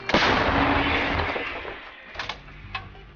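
A single loud, booming blast from an M777 howitzer with a long rumbling decay, followed by fainter clanks and knocks.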